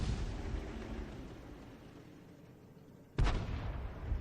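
In a tank battle video game, a French tank destroyer's shell strikes a T-34 tank with a sudden, sharp, booming impact that follows a low, fading rumble of distant battle noise.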